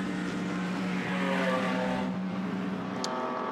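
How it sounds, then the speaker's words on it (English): A big Maserati racing car engine drones loud and steady with a harmonic exhaust note, holding a sustained roar through the pass with a slight swell midway and no talking. "Belch of flame from the exhaust of the big Maserati"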